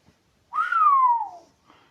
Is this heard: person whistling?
yes